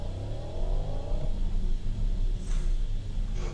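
Electric 2026 Porsche Cayenne Turbo accelerating hard, heard from inside as a loud rising whine over steady road rumble that eases into a droning roar.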